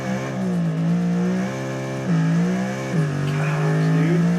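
A car engine revs in the BeamNG driving game, a steady humming engine tone that rises and drops back several times at a fairly even, moderate level with no talk over it.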